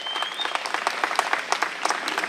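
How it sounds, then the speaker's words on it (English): A round of applause at an outdoor senior picnic, a crowd clapping steadily and briskly for a couple of seconds at moderate distance. "It's a big round of applause for everyone in Public Works, led by Stan Cody and crew."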